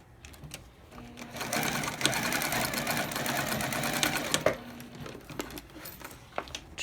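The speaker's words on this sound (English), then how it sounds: "we're going to stitch across just below card slot number 3" A sewing machine stitches across a wallet just below a card slot, running steadily for several seconds at close range with brief handling noises before and after.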